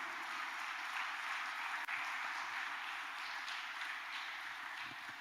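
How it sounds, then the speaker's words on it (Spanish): Steady applause from a church congregation at a sermon, a dense, even wash of clapping that holds at the same level throughout with no voices over it. "Denle el aplauso al Señor"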